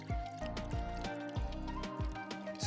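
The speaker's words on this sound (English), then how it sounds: "Pour in your chickpea water," Chickpea water (aquafaba) is poured into a cream whipper dispenser, a short close liquid pour with gurgling, dripping splashes and small bursts, heard alone and fairly quiet.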